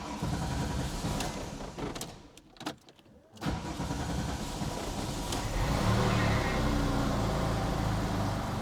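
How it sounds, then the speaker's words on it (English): A Porsche 996 GT3 starts for the first time after winter storage: a quiet pause, then the engine catches with a loud burst and settles into a steady, rumbling idle close to the microphone. "We can now go ahead and start the car up."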